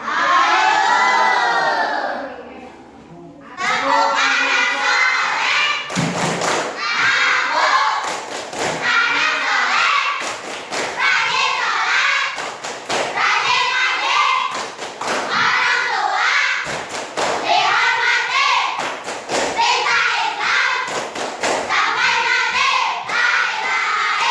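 Classroom of Islamic religious education pupils performing the tepuk anak soleh clapping chant, a rhythmic group chorus of shouted syllables and sharp, near hand claps repeating in steady bursts, loud and lively throughout.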